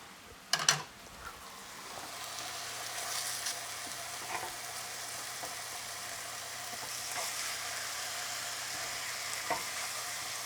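Garlic sizzles in a frying pan with meat, opening with a couple of sharp clatters and then a steady, moderate frying hiss.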